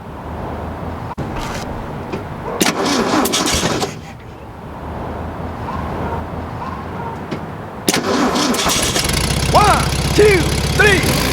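A classic MG car's engine cranks and catches, sputtering into a loud, rough running rumble after bursts of clattering and mechanical noise. The engine runs steadily near the end over a low, dense drone.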